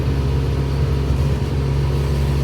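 Hino Ranger FB4JG truck with a manual transmission and an unknown fault, its engine giving a loud, harsh, droning rumble under acceleration, steady and close throughout.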